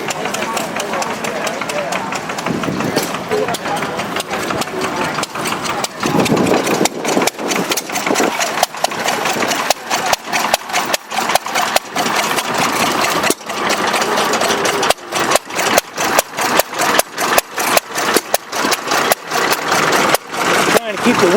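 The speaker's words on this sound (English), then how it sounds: "here's an English engine for our British buddies. Yeah, it's a Wolseley." An English Wolseley stationary engine runs at an outdoor engine show in Batsto Village, New Jersey, firing in a loud, steady train of rhythmic beats amid wind, with people talking over it throughout.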